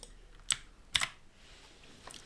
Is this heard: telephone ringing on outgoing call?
no